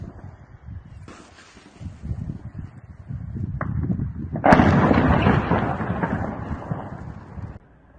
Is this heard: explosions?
yes